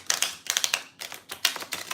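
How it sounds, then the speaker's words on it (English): A deck of tarot cards shuffled by hand during a card reading: close, crisp riffling bursts in quick uneven groups with short pauses between them, no talking. "the shuffling scares her sometimes"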